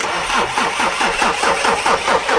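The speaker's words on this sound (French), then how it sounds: "C'est normal aussi le bruit que le moteur fait?" A cold car engine cranks repeatedly in a fast, rhythmic churn, straining loudly and steadily without catching, close by and with no voices.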